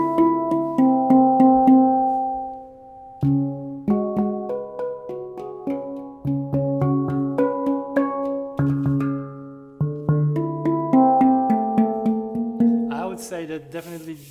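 A metal handpan (nitrate drum) played in a flowing melodic run of many struck, resonant tones that ring and overlap, with a brief pause partway and a bright clatter near the end; close and clear, with no speech.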